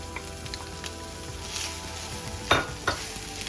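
Leftover vegan steak sizzles in a hot skillet with a steady crackling fry, broken by a couple of louder scraping stirs near the end, heard close with no talking.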